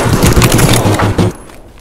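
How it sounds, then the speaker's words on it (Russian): A rapid string of loud gunshots fires in quick succession in Escape from Tarkov, then cuts off abruptly into near silence. "Один выстрел, да? Убил одного."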